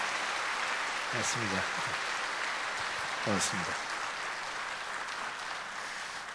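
Church congregation applauding to welcome two visiting elders, steady clapping filling the room throughout while someone briefly speaks over it.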